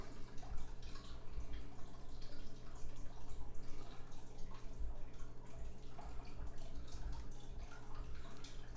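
Melted butter poured over bacon-wrapped cabbage in an Instant Pot, a soft continuous trickling and dripping of liquid, close and quiet against a low steady hum.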